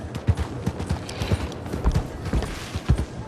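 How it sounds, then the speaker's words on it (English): Horse hooves clip-clopping in Red Dead Redemption 2, a steady rhythmic run of close, clear hoofbeats on hard ground, heard alone without talk. "just trying to train my horse is all"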